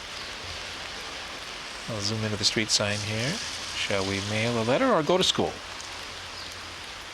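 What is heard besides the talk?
rain falling on a Paris street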